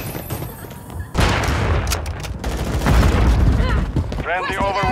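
Dense gunfire in Modern Warfare III: rapid shots and bursts with booming impacts, continuous and loud, with voices talking over the firing near the end.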